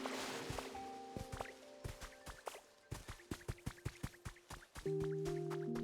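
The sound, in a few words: water splashing and dripping in Pokemon Pokopia video game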